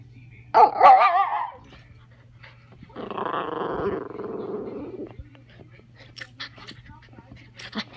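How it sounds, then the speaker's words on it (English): A puppy growling and grumbling in two bursts, a short rough one then a longer low rumble, close by with a faint steady hum beneath and light clicks afterward. "wish I could get her doing her growl"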